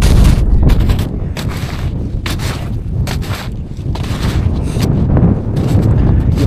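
Strong, cold winter gusts batter the microphone in loud, rough bursts, a harsh buffeting roar that rises and falls without pause.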